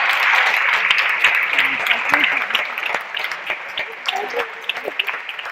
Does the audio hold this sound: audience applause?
yes